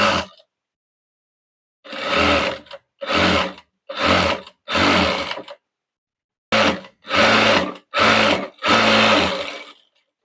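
An overlock sewing machine stitching a choli blouse runs in short loud bursts, about eight close whirring runs of a second or so each, separated by brief silent pauses.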